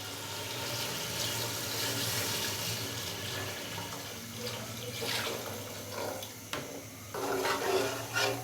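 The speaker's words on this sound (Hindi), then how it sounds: "तो अभी मैं इसके अंदर डालूँगा पानी।" Water pours into a pot of chicken pulao over about one kilo of rice, a continuous close rushing splash that swells and thins as the stream shifts, ending in a brief louder gush.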